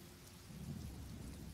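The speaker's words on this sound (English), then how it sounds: "And now it's raining." Steady rain in Skyrim hisses softly with a low rumble of thunder rolling underneath, quiet and continuous throughout.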